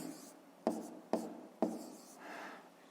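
Hand-writing numbers during a fifth-grade maths exercise: three sharp pen taps on paper, each followed by a short scratchy stroke, then a softer, longer scribble. Close and fairly quiet, with no voice.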